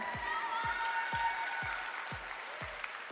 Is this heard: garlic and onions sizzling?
no